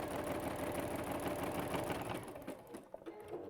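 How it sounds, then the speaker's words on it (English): A sewing machine runs continuously along a round seam, a steady close mechanical whir and rapid stitching rhythm that breaks up and stops near the end. "I'm just letting the machine take this round as it goes"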